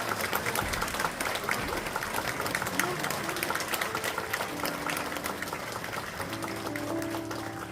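A congregation at a Korean church service applauds steadily while a voice speaks over the clapping, and a held musical tone comes in near the end.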